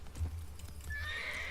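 Roach, the horse in The Witcher 3: Wild Hunt, gives a short, clear neigh with a few hoof clops, heard close and alone.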